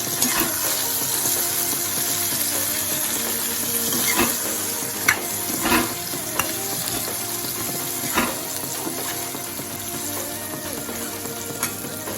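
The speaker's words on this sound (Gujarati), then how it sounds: "હવે તેને આપણે તેલમાં સાતળવાનું છે" Okra with turmeric and asafoetida sautéing in hot oil for a Kathiyawadi yogurt bhindi shaak, a steady close sizzle running throughout with intermittent clinks and scrapes of a spoon stirring the pan.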